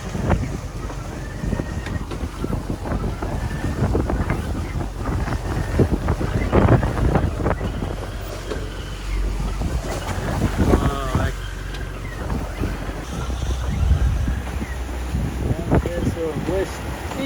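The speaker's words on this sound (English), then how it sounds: "get you some appreciation of the waves just rolling in here." Wind buffets a sailboat crossing big rolling waves near the eastern entrance to Hong Kong in a northeast monsoon breeze, a steady loud rush of wind and water with the hull jostling, and people talk over it.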